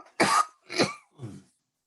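A man with a lingering two-week cough coughs three times in quick succession, close and loud, each burst a little weaker than the last, then goes quiet.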